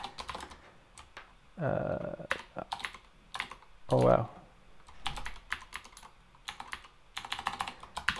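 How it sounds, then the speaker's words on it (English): Keys clack on a blank computer keyboard in close, irregular bursts of typing, with pauses and a voice speaking briefly between them. "Sometimes you just forget where the keys are on the keyboard because I'm using a blank keyboard."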